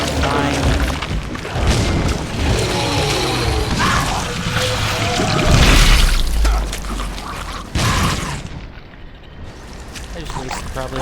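Grenades explode against monsters in The Sinking City: a run of heavy booms and crashing blasts layered with clattering game effects over about eleven seconds, loud and close, with a voice talking in between.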